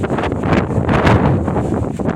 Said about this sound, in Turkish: Çok rüzgar var burada arkadaşlar.